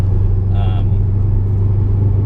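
A car engine rumbles loudly and steadily up close, with a deep throaty exhaust drone and a brief higher whistle partway through.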